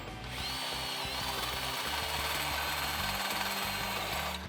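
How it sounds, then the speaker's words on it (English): A power drill with a step bit whirs steadily and loudly at close range, its motor pitch dipping briefly as the bit bites into metal, opening a hole to 5/8 inch. "I'm going to be using a step bit just to open up to 5/8"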